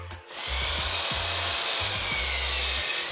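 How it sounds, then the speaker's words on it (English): Wood boards being cut to length for a homemade push/pull workout sled, a steady rasping saw sound with bursts of low rhythmic thumps close by, running continuously for about three seconds with no talking. "now we're going to chop all the wood"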